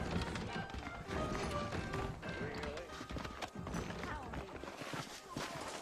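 Hooves clip-clop at a steady trot in Red Dead Redemption beneath a busy mix of ambient sound, with occasional talk and a faint whinny in the background.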